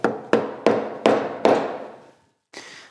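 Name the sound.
chiseling a notch in soft wood of a door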